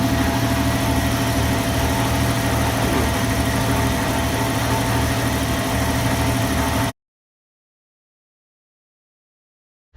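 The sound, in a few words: 1998 Jeep Wrangler TJ engine running with AC compressor on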